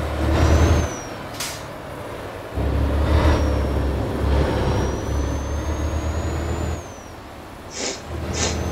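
A heavy double-trailer truck in Euro Truck Simulator 2 pulls away in first gear: a loud diesel engine drones and rises under load, with sharp hisses of air brake release at the start and end.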